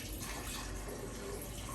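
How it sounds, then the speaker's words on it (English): Water poured into a blender for a mango smoothie runs in a steady, soft splashing stream without pause. "So first, you're gonna start with just a little bit of water."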